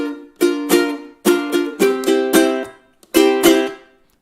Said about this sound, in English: So let's play the chords in there.